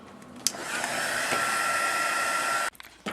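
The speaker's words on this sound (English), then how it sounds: "And then I'm going to use my heat tool again to get the embossing powder to stick." A handheld heat tool blows steadily while melting embossing powder on a card, a close, even whooshing hum lasting a few seconds before clicking off abruptly.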